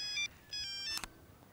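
Telephone ringing with an incoming call: a bright electronic ringtone in short tonal bursts, three quick pulses in under two seconds, heard alone and fairly faint.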